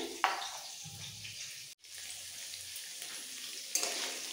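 Pointed gourd (potol) frying in oil sizzles softly and steadily up close, broken by a brief gap and a few light clatters and stirring knocks, with no voices.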